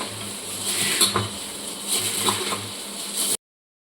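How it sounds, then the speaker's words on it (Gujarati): Puffed rice and poha chevda is tossed with masala in a pan: dry rustling, scraping and light clinks of the spoon against the pan come close and steady for about three seconds, then cut off. "હવે આ રીતે ઉપર નીચે કરી અને બધો મસાલો આપણે મિક્સ કરી લઈશું।"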